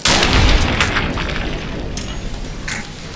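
Shotgun blast in Fallout New Vegas, one heavy close boom that decays into a rumbling tail, followed by a fainter second report.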